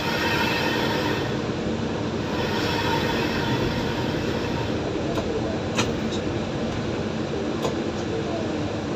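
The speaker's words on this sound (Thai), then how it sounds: "รถด่วนขบวนที่ 13 กรุงเทพเชียงใหม่นะครับเมื่อเคลื่อนขบวนรถเข้าสู่สถานีอยุธยา" Express train no. 13 from Bangkok to Chiang Mai rolls into Ayutthaya station, a loud steady rumble of wheels and carriages with brief squeals, filling the whole stretch up close.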